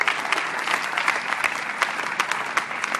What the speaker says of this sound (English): Yeah, I think most of us are clapping. I'm certainly clapping.